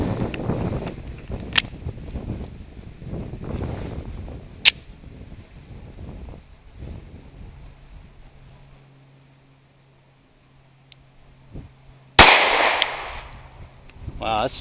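Three sharp pistol shots from a Glock 43X MOS firing 115 grain Winchester white box ammunition at 3 yards on a range, spaced several seconds apart, with the last one loudest, among low background noise and some talk.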